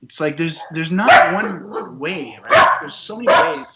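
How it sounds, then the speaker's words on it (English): A dog barks several times in short yips and bow-wows close by, mixed in with someone talking steadily over it. "Sorry, that's my dog."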